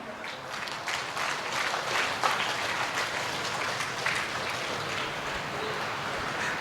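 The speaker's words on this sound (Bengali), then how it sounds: "একটা জোরদার হাততালি" Sustained applause from a large audience at a formal speech event, a dense, even wash of clapping that holds steady and moderately loud throughout with no voices over it.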